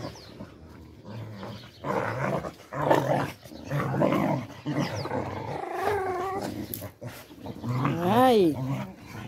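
A female dog growling and whimpering at close range, with uneven bursts of rumbling growls and then rising and falling whiny cries, while people talk over it.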